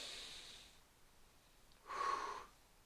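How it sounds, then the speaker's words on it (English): A single deep breath drawn in through the nose during a trigger-point release for the chest breathing muscles, a brief close rushing inhale in an otherwise quiet room. "deep breath in"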